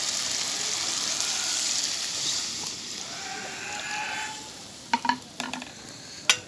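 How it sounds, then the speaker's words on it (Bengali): Curry simmering and sizzling in a frying pan as broth is poured in, a steady close hiss with soft stirring, then a few sharp clinks of a spoon against the pan near the end. "এখন দিয়ে দিব ঝোল।"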